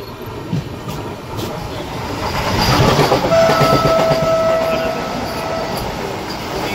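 The Rourkela–Howrah Vande Bharat Express rushes past at close range, a loud sustained rail roar with clattering wheels swelling midway, and a faint high steady tone running through the middle.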